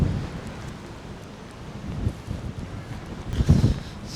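Strong wind buffeting a microphone outdoors in a park in Killarney, Ireland, a low rumbling roar that swells and gusts louder toward the end, with faint distant background noise and no talking.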